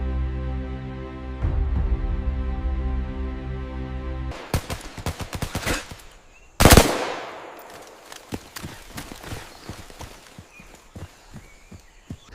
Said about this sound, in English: Contact front. Suppressing fire.